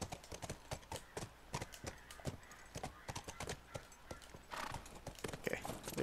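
Horse hooves clip-clop steadily on hard ground in The Last of Us, a dense run of close, loud footfalls with a brief whinny and someone talking over part of it.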